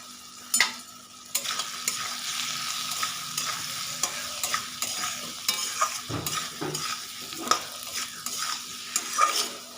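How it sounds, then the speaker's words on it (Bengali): Potatoes tossed with cumin, coriander and chili powder are stirred in a hot pan, a spoon scraping in steady irregular strokes over a soft continuous sizzle, close and moderately quiet, with no talking. "আলু আর মশলার সঙ্গে আমি ভালোভাবে মিশিয়ে নিয়েছি"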